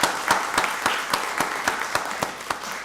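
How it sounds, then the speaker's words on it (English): Audience applause at a county board of commissioners meeting, heard as sparse, rhythmic clapping in a large room, with evenly spaced sharp claps over a soft bed of scattered hands, fairly close and steady. "Give him a round of applause."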